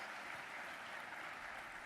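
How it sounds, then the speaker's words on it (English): An audience at the Nintendo E3 2007 press conference applauds fitness trainers with a dense, steady wash of clapping throughout. "Let's give a big round of applause to our fitness trainers today."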